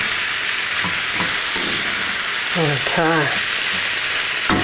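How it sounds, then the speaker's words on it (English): Lamb pieces coated in massaman curry paste sizzle loudly in a pan while being stirred and turned, and a voice speaks briefly over the frying. "Mix it all through, get some of that curry paste on every bit."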